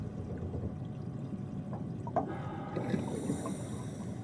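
A toilet flushes in the sci-fi horror game SOMA, a low watery gurgle and pour rising over steady background rumble, with a bright tone joining partway through.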